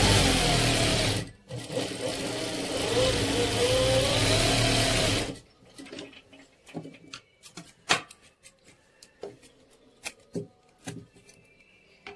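A sewing machine stitches fabric in a steady close whir for about five seconds with a brief pause early on, then stops, leaving scattered clicks and handling noises in a quiet room.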